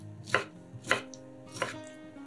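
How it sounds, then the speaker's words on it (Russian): Knife dicing pineapple into small cubes on a cutting board, three crisp chopping strokes at an even, unhurried rhythm, close and clear with no talking. "нарезаем их небольшими кубиками"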